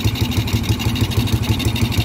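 A Honda XRM 110 motorcycle engine runs after its wiring harness is rebuilt, settling into a steady, rhythmic idle with even low pulses close to the microphone.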